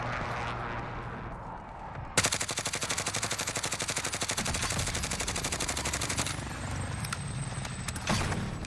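Automatic fire from the Grau rifle in the Warzone video game, a long, loud, rapid, even burst of shots lasting about four seconds after a quieter lead-in, with a short second burst near the end.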